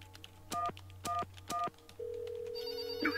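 Phone call placed in a video game: three short electronic keypad dialing tones in quick succession, then a steady ringback tone begins and continues, clear and close with no talking.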